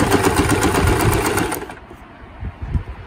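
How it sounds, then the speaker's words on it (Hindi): A domestic sewing machine runs a test seam after rethreading to fix uneven stitch tension, buzzing loudly and rapidly for under two seconds before stopping, followed by faint handling noises. "अब मैं देखती हूँ सिलाई करके।"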